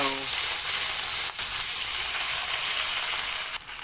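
Fish fries one piece at a time in hot oil in a heated pan, a loud continuous sizzling hiss that holds steady from start to finish, with brief dips.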